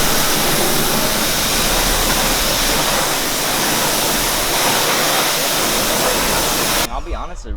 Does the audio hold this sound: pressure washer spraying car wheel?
yes